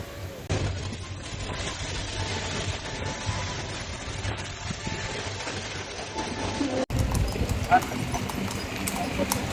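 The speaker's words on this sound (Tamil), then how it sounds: "வடிவா இருக்கு குதிரை வண்டி." A horse-drawn carriage in Tunisia rolls along, its hooves clip-clopping in a steady rhythm beneath constant chatter and street noise.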